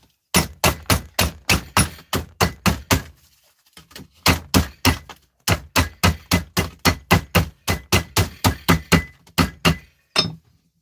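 Hammer striking steel scrap repeatedly, sharp loud metallic thunks in steady rhythmic bursts of several blows, with short pauses between groups.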